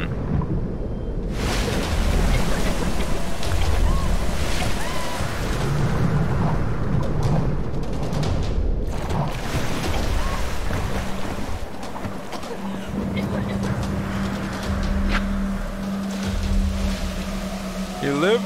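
Boat engine in the Tomb Raider video game, a rough roar under heavy wind and storm noise, with a steady drone holding through the later part and voices cutting in over it.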